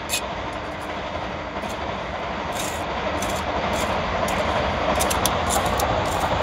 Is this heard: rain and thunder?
no